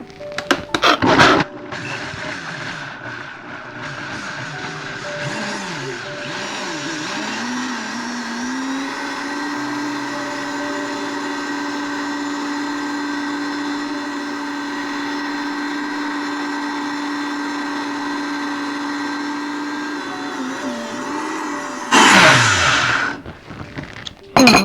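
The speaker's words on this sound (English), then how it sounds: "Turn on the Vitamix." A Vitamix blender runs on low while blending durian pudding, a steady whirring motor drone that holds for about twenty seconds, with clunks and handling noise as it starts and stops.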